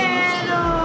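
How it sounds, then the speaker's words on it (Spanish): A street cat in Santiago de Cuba gives one loud, drawn-out meow close by, with outdoor background noise underneath. "encontramos un gato santiaguero"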